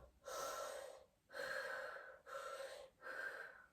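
Four slow, deep breaths, close and soft, taken during a stretching exercise, alternating long inhales and exhales with short gaps between them.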